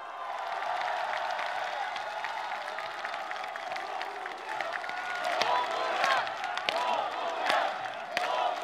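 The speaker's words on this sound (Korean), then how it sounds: "여러분 다시 한번 뜨거운 함성과 박수 부탁드리겠습니다" A large crowd cheers and applauds for President Roh Moo-hyun at an outdoor gathering in Bongha Village, with sustained clapping, whoops and shouts that swell louder toward the end.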